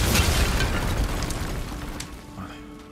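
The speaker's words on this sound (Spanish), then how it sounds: "Atacar a los calderos, provocar una explosión, que aparte de las escombros y dañar a enemigos." A cauldron blows up in God of War Ragnarok, a deep booming blast with crackling debris that rolls off and fades over a few seconds.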